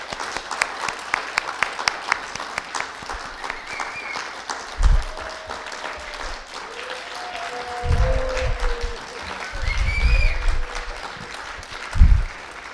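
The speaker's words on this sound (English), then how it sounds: "Let's give them an official big applause." Applause from the audience at a New Year's celebration and Wonmu ordination ceremony, with rhythmic clapping that thins out partway through while low thumps and a few faint voices come through.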